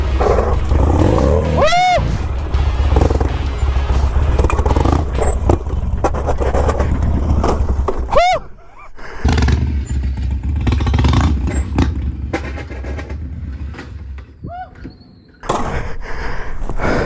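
Harley-Davidson Sportster motorcycle engine running continuously during circle wheelie practice, a steady low rumble with a few sharp revs and throttle blips, close to the rider.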